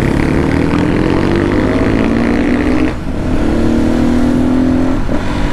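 Off-road motorcycles ride in a group on a foggy route after rain, their engines droning steadily and loud with rising revs and a brief dip midway, no talk over them.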